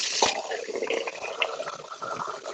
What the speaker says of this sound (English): It sounded like a toilet flush.